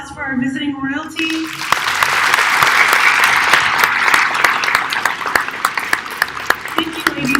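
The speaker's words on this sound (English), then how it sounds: "Can we get a round of applause for our visiting royalty?" An audience applauds visiting pageant royalty at a live event, a sustained round of clapping with some sharp individual claps standing out, framed by someone speaking briefly before and after.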